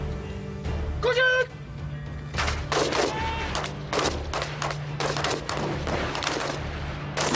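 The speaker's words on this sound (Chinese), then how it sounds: "虽然巨大的爆炸效果模拟了更加复杂的战场环境" Simulated explosions and gunfire during military assault team training: a rapid string of sharp bangs and pops, irregular and fairly close, with a brief whistle-like tone early on and a steady background hum.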